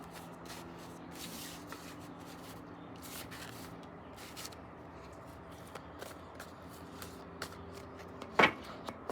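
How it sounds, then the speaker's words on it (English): Tarot cards shuffled by hand: soft, faint riffling and rubbing in repeated bursts, close and quiet, ending with a sharper snap of cards near the end. "I'm going to shuffle a couple more times"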